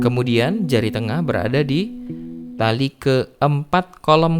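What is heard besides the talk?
No everyday noises stand out.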